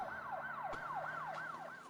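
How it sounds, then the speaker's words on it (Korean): Police car siren wailing in steady repeating up-and-down sweeps, loud and continuous with no voices, as a patrol car arrives at a building. "경찰차 한 대가 올라왔다"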